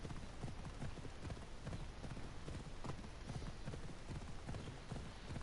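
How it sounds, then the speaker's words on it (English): Horse hooves clip-clop in a steady rhythmic gait in the video game Assassin's Creed Odyssey, faint and continuous, with no talking. "I need to take this horse either to Adonis or to the stable boy"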